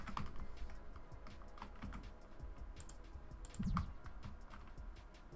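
Steady typing on a computer keyboard, with quick irregular key clicks running throughout at close range and a brief louder clatter near the end, with no talking.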